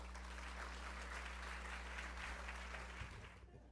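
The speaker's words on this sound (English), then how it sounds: "Please give them a round of applause." A business conference audience claps together in a large hall, a sustained wash of applause over a low steady hum, fading out near the end.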